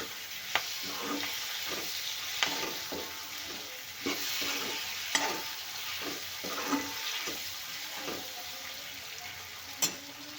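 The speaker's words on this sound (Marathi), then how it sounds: "आता हे छान आपण तेलामध्ये नरम होऊ देऊया टोमॅटोला" Tomatoes fry and soften in hot oil for a raw banana sambar, a steady close sizzle punctuated by sharp clicks of a spoon stirring against the pan every second or so.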